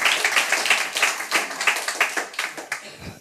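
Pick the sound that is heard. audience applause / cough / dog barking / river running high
audience applause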